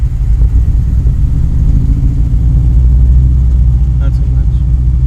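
A Ford Mustang GT fitted with a Whipple Gen 5 3.0L supercharger and a blown motor runs with a loud, deep, throbbing rumble, given a little gas as people talk over it.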